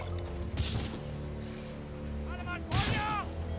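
Gunfire in the World War II shooter Medal of Honor: Frontline, with two sharp bursts of shots a couple of seconds apart over a steady game background hum and ringing tones.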